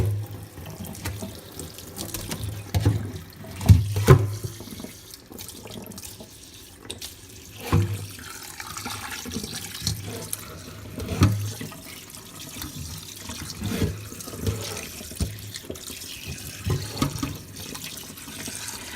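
Chicken being rinsed under a running kitchen tap, a steady stream of water splashing into the sink with occasional louder splashes and knocks as the meat is handled, close and continuous.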